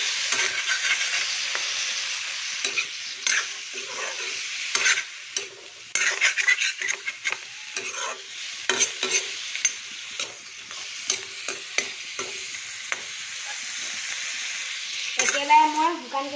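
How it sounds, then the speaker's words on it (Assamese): Pork being stirred in a dry wok for a boiled pork dish, bright continuous sizzling broken by repeated scraping and clattering strokes of the spatula, with a brief voice near the end. "আমি এতিয়া অকণমান লৰাই লওঁ। এয়া চব মই লৰাইছোঁ।"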